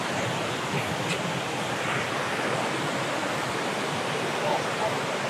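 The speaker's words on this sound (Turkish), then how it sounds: "şu akan şelale gibi akan kısımdaki suyun gözesi hemen şu üst tarafta" Spring water pours down like a small waterfall just below its source on a highland pasture, a steady, loud, broadband rush that fills the whole stretch without pause.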